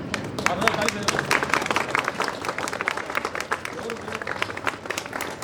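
An audience at a Republic Day celebration claps steadily, a dense patter of many hands with a faint murmur of voices beneath.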